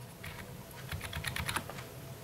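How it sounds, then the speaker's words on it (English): Keys clatter on a Roccat Horde membrane USB keyboard as a Ctrl and Escape shortcut is pressed, giving a burst of quick, soft, close-up clicks that cluster in the middle over a low background hum. "now let's see if I can turn on the PC using my Ctrl and Escape keyboard shortcut"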